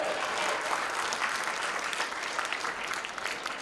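A crowd applauds steadily with dense clapping that continues throughout, fairly close and unbroken.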